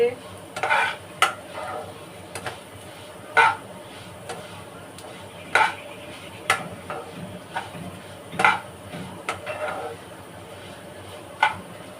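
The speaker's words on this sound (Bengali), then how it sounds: "ডালটা ভালো করে ভেজে নিচ্ছি।" Moong dal dry-roasting to a reddish colour in a pan, with repeated sharp scrapes and taps of a spatula against the metal at an irregular rhythm over a faint background sizzle; close and fairly quiet.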